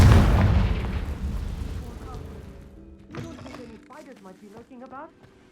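A Confringo spell explodes in Hogwarts Legacy, a loud rumbling blast with crackling debris that fills the opening seconds and fades over about three seconds, followed by quieter scattered game sounds and voices.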